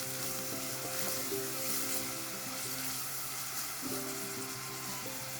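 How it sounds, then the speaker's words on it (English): Onions and curry leaves fry in a pan for a tomato curry, giving a steady, dense sizzle that stays close and even throughout with no talking. "Cook the onions nicely for 3 more minutes."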